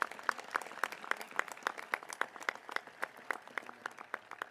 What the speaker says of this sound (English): If we could have a round of applause for Mrs.